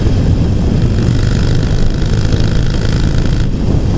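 A Harley-Davidson Iron 883 with a tuned exhaust growls loud and close at high revs, a deep, rumbling, continuous roar that holds steady with only a slight dip near the end.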